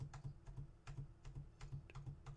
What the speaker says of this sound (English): That's me pressing it semi-normally, and then here's my old keyboard.